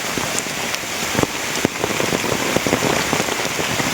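Steady rain falls on a Konkan farm, a dense, close hiss of drops hitting surfaces and an umbrella, with scattered sharper drip taps throughout and no talking.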